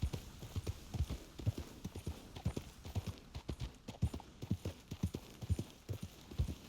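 Horse hooves clip-clopping at a steady walking rhythm in a video game, the beats moderately close and even, running throughout with no talking.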